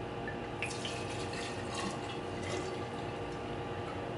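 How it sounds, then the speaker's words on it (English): Tito's handmade vodka being poured into a glass container, a quiet steady trickle of liquid running for several seconds with no talk. "take Tito's handmade vodka and just pour it in this glass container"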